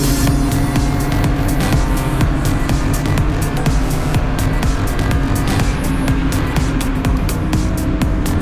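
Several race cars thunder loudly through turn 2 of a track during an SCCA racing school session, engines droning continuously and close by with no voices.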